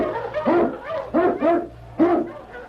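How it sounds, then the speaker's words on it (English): An Eskimo lead sled dog in a Yukon adventure radio drama gives four or five short, resonant barks in an uneven rhythm, close and clear with nothing else over them. "King, the swiftest, strongest of Eskimo lead dogs, blazes the trail through storm and snow"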